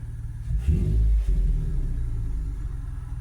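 A Toyota FJ Cruiser engine revs up briefly while in park, then drops back to a steady low rumble, heard close with no one talking.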